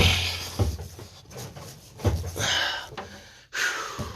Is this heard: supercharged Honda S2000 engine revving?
no